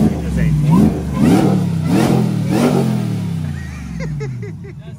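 Supercharged 427 GMC truck engine revving close by, several rising and falling throttle blips in a rough rhythm that settle toward idle, loud and up front.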